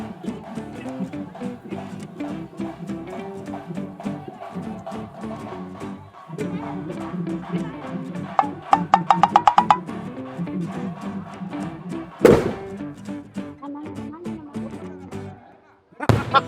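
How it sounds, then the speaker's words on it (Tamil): A big firecracker bursts at a village festival with one sharp, loud blast over ongoing music and chatter, followed by a shorter crack at the very end. "இந்த பெரிய சைஸ் வெடி எப்படி வெடிக்குதுன்னு இப்போ உங்களுக்கு நான் காட்ட போறேன்"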